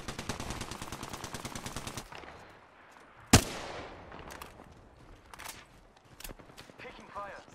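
Rapid automatic gunfire in the video game Apex Legends rattles off in a fast burst, then a single loud close shot rings out, followed by scattered quieter shots and game sounds while players talk.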